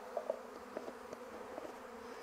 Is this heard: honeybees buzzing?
yes